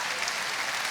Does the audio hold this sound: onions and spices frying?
no